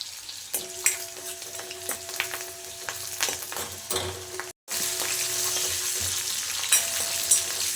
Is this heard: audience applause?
no